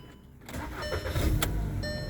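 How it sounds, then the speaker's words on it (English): A 2012 Volkswagen Jetta, turned with a cloned plain transponder key, cranks briefly and its engine catches and settles into a steady idle, loud and close. "but it'll also start the car and they'll be able to run"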